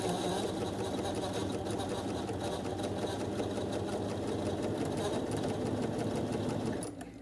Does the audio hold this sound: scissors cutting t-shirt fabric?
no